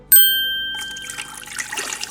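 A bright metallic ding rings out and fades, followed by a soft trickle of a cup of water pouring into a slow cooker.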